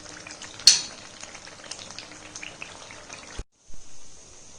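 Boiled rice butter thattai fry in hot oil with a continuous close sizzle and crackle, broken by a sharp clatter of a utensil and a brief pause before the frying resumes.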